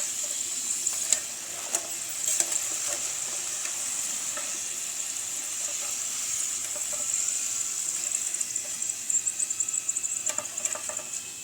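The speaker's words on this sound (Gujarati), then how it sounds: "આવી જ રીતના આપણે બધા જ ચીપટા તળી લેવાના છે." Chipta snacks fry in hot oil, a steady high hiss of sizzling with scattered pops and occasional stirring, close and moderately loud with no talking.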